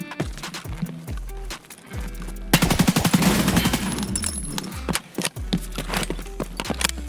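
A submachine gun in Escape From Tarkov fires a rapid, sustained burst in the middle, with shorter bursts and clatter before and after it.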